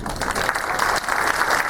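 A live audience applauds loudly and steadily at a stage hypnotism show, a dense wash of clapping with some cheering that holds constant throughout.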